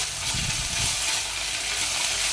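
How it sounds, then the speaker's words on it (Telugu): Onions sizzle in hot oil with salt and ginger garlic paste for egg fried rice, a steady close frying hiss with no talk. "వేగుతూ ఉంటుంది"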